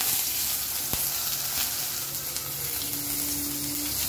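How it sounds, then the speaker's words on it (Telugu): Mustard seeds, urad dal, hing and curry leaves sizzle in hot coconut oil, a steady broadband crackle and hiss running continuously and fairly loud, with a brief sharper pop near the start and a faint tonal hum underneath. "కొంచెం ఆవాలు వేస్తున్నాను, తర్వాత మినపప్పు కొద్దిగా, కొంచెం ఇంగువ, ఇప్పుడు కరివేపాకు"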